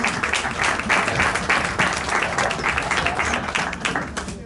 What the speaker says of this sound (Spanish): Pues un aplauso muy grande para ellos